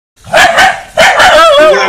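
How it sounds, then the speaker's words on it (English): A dog barks nearby in two loud, close bursts, the second drawn out into a yelping whine, heard alone without talk. "Sorry, there's a dog barking."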